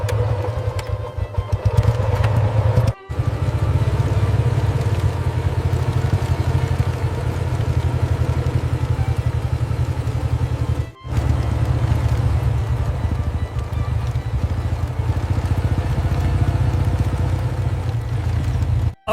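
A motorcycle engine idles steadily nearby with a low, even rumble that runs almost unbroken, briefly cut twice, with no one talking over it.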